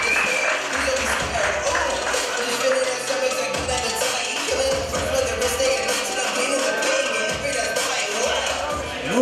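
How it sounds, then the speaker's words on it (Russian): Applause for a heavyweight fighter after a bout, dense clapping with crowd noise and voices mixed in, steady and fairly loud throughout. "бурные, шумные аплодисменты Михаилу"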